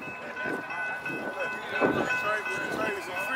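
A train rumbles past, a continuous rolling rush with metallic tones. People are talking over it throughout.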